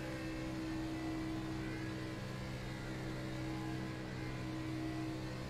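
A race car engine drones loudly and steadily throughout, a continuous buzzing roar with no voices over it.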